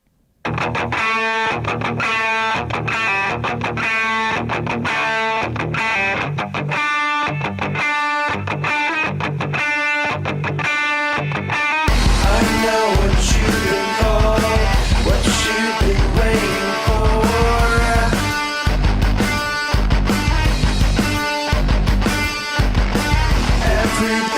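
A band song plays loud and continuous, its guitar solo heavily distorted; the mix grows fuller and louder about halfway through, with steady driving rhythm and no talking.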